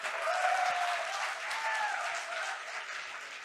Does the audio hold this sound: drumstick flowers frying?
no